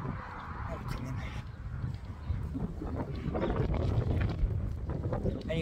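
Wind blows outdoors on an exposed stretch, buffeting the microphone with low, uneven gusts that grow stronger toward the end.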